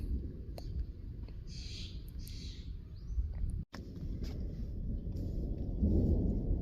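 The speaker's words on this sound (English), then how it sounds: "I've never heard thunder just constant for 2 hours." A low continuous rumble of monsoon thunder rolls on throughout at an Arizona lake campsite, swelling toward the end, with a few faint bird chirps above it.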